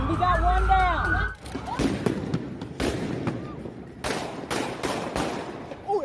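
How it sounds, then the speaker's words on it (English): Gunfire aimed at police in street footage, a burst of sharp shots followed by scattered cracks and bangs, with voices talking over the chaos. "Shooting guns at him, real guns. They're blasting at the police."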